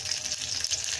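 Homemade butter frying in a hot pan for butter chicken, a steady close crackling sizzle throughout with no talking.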